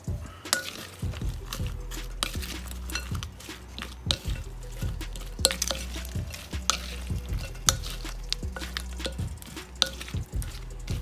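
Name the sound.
mixing sisig with lemon juice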